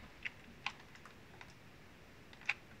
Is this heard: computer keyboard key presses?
yes